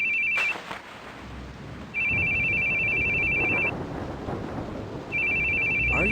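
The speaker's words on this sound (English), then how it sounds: "Your phone's ringing." A phone rings in three bursts of steady electronic trilling, separated by pauses, over a low rumbling background with no talking.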